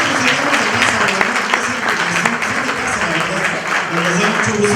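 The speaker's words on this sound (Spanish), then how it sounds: "Denles un aplauso también" Church congregation applauds during a Sunday service, a thick, continuous clapping from many people, loud and close, with some voices mixed into the crowd noise throughout.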